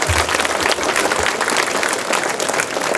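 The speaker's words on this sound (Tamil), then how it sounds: "கைத்தட்டல் கொடுத்துங்க." Parents at a school annual day celebration applaud, loud, dense and continuous clapping from a large crowd filling the whole stretch.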